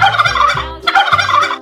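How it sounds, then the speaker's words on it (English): A turkey gobbles loudly and close by in two rapid warbling bursts separated by a brief pause. "Turkey."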